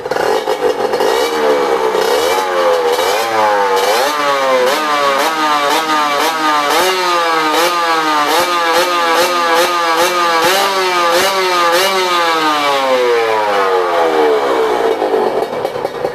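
A Honda NSR150SP two-stroke motorcycle engine revs hard and repeatedly, its loud buzzing pitch climbing and dropping in quick regular waves over about sixteen seconds, close up and continuous with no voices.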